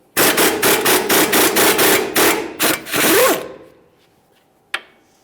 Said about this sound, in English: Remove this with a swivel 18mm.